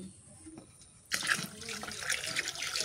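Water pours steadily into a karahi-style cooking pan after a second of quiet, a continuous splashing rush close by.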